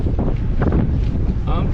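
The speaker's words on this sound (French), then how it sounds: "surtout beaucoup de vent. Beaucoup de vent d'ouest, un peu nord-ouest" Strong westerly wind in Denmark buffets the microphone in loud, gusty rumbling bursts, with faint voice-like sounds mixed into the roar.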